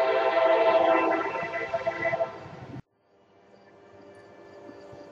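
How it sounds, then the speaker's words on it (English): Loud broadband roar of a passing train fills the first three seconds, then cuts off sharply, leaving faint distant rumble and hum afterward. "Hopefully, the train's far enough away now that you can hear me."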